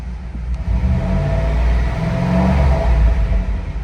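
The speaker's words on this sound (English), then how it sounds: "it's got a nice throaty exhaust sound to it" A 1995 Pontiac Firebird Formula engine idles at cold start with a deep, throaty rumble from the exhaust, steady and loud up close, with slight fluctuations in revs.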